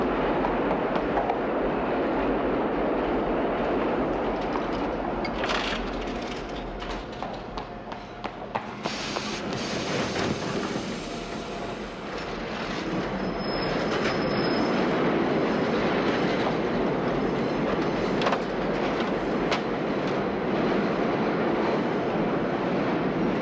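A subway train rumbles loudly nearby, a continuous roar of wheels on rails with a metallic squeal rising partway through, no talking.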